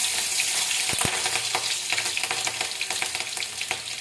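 Bhujiya, a vegetable dish, sizzling and frying in a pan, with steady crackling hiss, a couple of sharp clinks early on and the scrape of stirring, loud and close with no talking.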